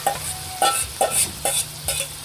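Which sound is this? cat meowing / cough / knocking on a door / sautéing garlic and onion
sautéing garlic and onion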